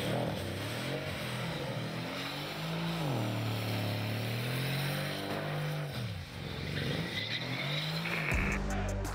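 A modified car without license plates spins a donut, its engine revving loudly and continuously as the tires squeal through the turn, the engine pitch rising and falling over several seconds.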